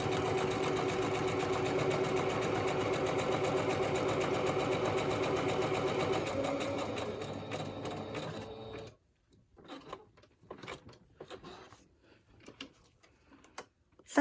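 A sewing machine stitches a small zigzag with a steady mechanical whir for about eight seconds, then breaks into a few short irregular bursts of back stitching separated by near-silence.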